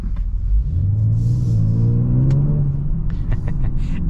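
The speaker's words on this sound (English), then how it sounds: "And this thing just seriously sounds amazing. This V6 is seriously nice." A 2023 Genesis G70 V6 engine pulls hard under acceleration on a test drive, a loud, rising rumbling drone that climbs steadily in pitch from inside the cabin, then eases off with faint clicks and road noise.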